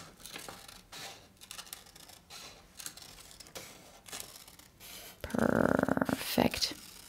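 Scissors snip through paper while cutting out a heart garland, a series of close, soft crunching cuts in an irregular rhythm, followed by a brief higher-pitched tonal sound near the end.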